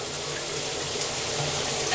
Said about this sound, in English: So there's the classic shower mode. It's got a nice massage to it.